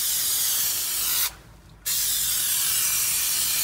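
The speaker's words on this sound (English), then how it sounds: "To spray both the back of the carpet and the metal." Contact adhesive sprays in a steady loud hiss onto carpet backing and metal floor pan of an early Mercedes R107, broken by a half-second pause before the spray resumes.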